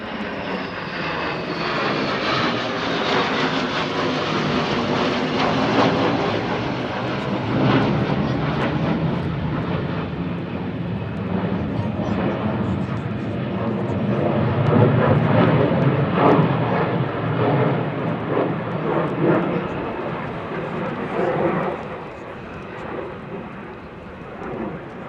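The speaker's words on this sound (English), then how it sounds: "A couple of F-16's, look." A pair of F-16 fighter jets at RAF Lakenheath produce a sustained, powerful jet roar that swells and rumbles for a long stretch before easing off, with faint talk underneath.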